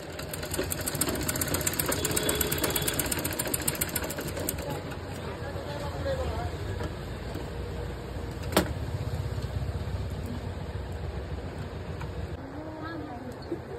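A sewing machine stitches steadily in a home sewing lesson, its dense mechanical whirring running continuously at moderate loudness, with a brief sharp click partway through.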